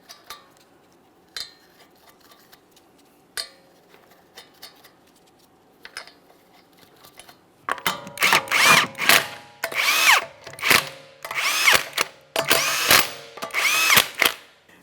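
An impact gun runs down the 21mm lug nuts on a 2014-2018 Mazda 3 rear wheel: after about eight seconds of quiet shop clatter come loud, close rattling bursts, roughly six of them in a row with short pauses between.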